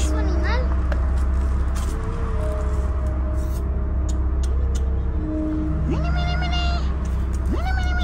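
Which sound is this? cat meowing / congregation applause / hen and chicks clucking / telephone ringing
cat meowing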